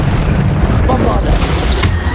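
The Bombarda blasting spell from Hogwarts Legacy detonates in one deep, loud boom with a short rumbling tail, set in a busy wizard-duel soundscape.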